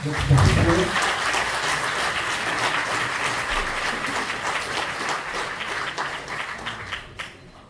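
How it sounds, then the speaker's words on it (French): An audience at a pitching competition applauds the participants, a dense, loud round of clapping from many people that holds steady and then thins out near the end, with a voice briefly audible at the start. "On peut encore applaudir tous les participants"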